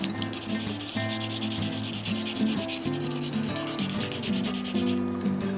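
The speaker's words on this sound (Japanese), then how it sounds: "さらに細かい方も使って削っていきます。" A guitarist's fingernail being filed and polished with a finer file, steady close rasping strokes in quick succession over a faint tonal hum, with no talking.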